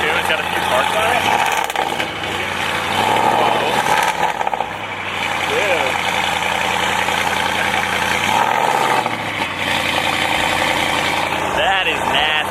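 Tuned 700 WHP Audi RS7 engine running with a deep, throaty idle and a few brief revs rising and falling, close by, while people talk excitedly over it.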